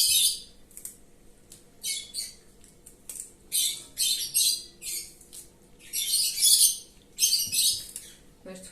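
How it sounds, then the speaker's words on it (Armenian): Pet parrots in a home kitchen let out repeated bursts of shrill squawks and chirps, loud and close, in an irregular series with short quiet gaps between them. "մեր թութակների ձայները միշտ մեր տեսանյութերում լսվում են"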